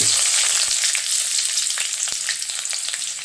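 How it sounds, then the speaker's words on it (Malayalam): Shallots fry in oil with mustard seeds and fenugreek for sambar, giving a loud, continuous close-up sizzle. A few soft stirring knocks break through the hiss, with no voices. "നമുക്ക് ചുമന്നുള്ളി ഇടാം"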